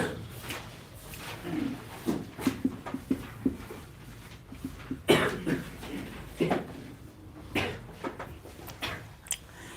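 Repeated short, harsh coughs from a person with a cold at irregular intervals, fairly close and moderately loud, with no talking between them.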